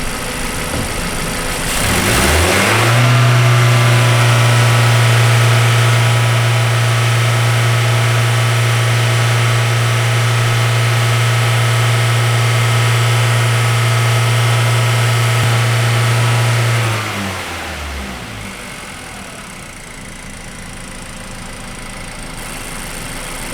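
An engine climbs to a high idle of 3,000 to 4,000 RPM with a valve opened, then holds a loud steady drone for about fifteen seconds before dropping back to a quieter idle.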